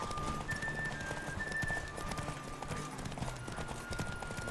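Steady hoofbeats of a galloping horse in The Witcher 3: Wild Hunt, rhythmic thudding clip-clop running throughout over a constant background hum.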